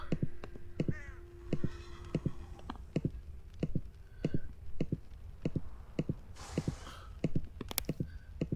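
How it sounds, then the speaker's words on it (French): A crow in the video game Star Stable Online caws repeatedly in a regular rhythm, a series of short, clear calls over a steady background of game ambience and faint clicking. "Et il y a un corbeau, super."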